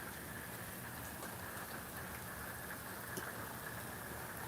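Steady, heavy rain falls in Florida, a dense, even wash of drops on surfaces that continues unbroken and fairly loud throughout, with no voices.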